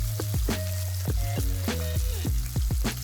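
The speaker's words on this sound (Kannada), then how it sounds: "ಚೆಂದಾಗೆ ಫ್ರೈ ಮಾಡ್ಕೋತೀನಿ" Capsicum and garlic frying in a pan for masala Maggi, a steady close sizzle broken by several clanging scrapes and knocks of a utensil as the pieces are stirred.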